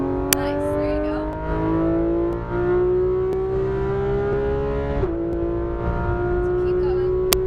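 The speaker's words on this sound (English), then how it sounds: "Squeeze throttle, then full throttle to the exit cone." A Porsche 911 GT3 RS of the 991 generation at full throttle on a track, its engine note rising steadily with a brief dip at a gear change, heard loud from inside the car under a driving instructor's talk.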